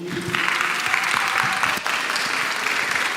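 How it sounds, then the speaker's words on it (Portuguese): Applause from an audience at the close of a dental school session, dense steady clapping that swells in after a brief moment and carries on strongly throughout. "Quero uma salva de palmas aqui."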